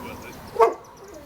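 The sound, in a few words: dog barking at the mailman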